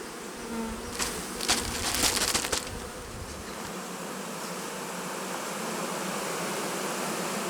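Honey bees at an alpine hive buzz in a dense, continuous hum, louder and closer for the first few seconds, then settling into a steady, softer drone.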